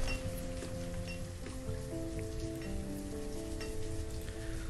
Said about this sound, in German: 28 Grad, aber Regen noch.